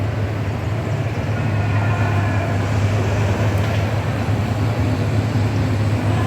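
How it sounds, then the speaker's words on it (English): A steady low rumble with a humming drone from a model Amtrak train running continuously and close by on a museum layout, with no voices. "Here's an Amtrak train coming."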